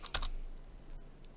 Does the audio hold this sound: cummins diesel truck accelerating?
no